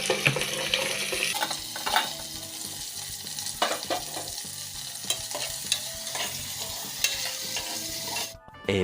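Red tomatoes sautéing in a pan while rice and dal are cooked, a steady close sizzle with repeated scraping stirs and a brief tap-water burst near the end.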